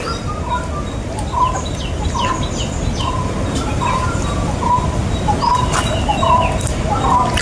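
Birds call in a dense forest among hills and rocks, repeating short clear chirps and whistles at a steady pace over a constant hiss of background ambience, with no one speaking.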